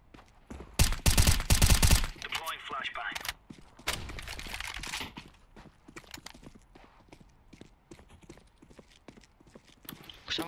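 R8 revolver fire in the game CS:GO: a few sharp, loud shots clustered near the start, followed by quieter in-game clatter and footsteps, with a voice talking over parts of it.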